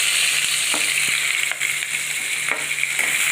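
Steady sizzling of sliced onions frying in hot oil for poori masala, with a few faint clicks of stirring against the pan.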